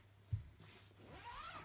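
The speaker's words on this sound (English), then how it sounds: "It's worth mentioning that this one has a front fastening zip, rather than a zip that fastens around the side." A front-fastening zip on a Sandcastle Bay travel Grobag baby sleeping bag is drawn, a faint close rasping pull after a soft knock, alone in a quiet room.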